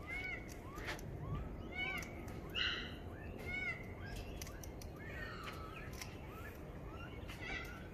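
A cockatoo calls repeatedly with harsh, screechy squawks, fairly close among other outdoor bird sounds, while a person talks quietly.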